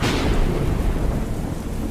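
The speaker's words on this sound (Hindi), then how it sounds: "अब बारिश और भी ज्यादा बढ़ गई थी।" Heavy rain pours down with a deep, rolling rumble of thunder, loud and steady throughout the short stretch, with no voices.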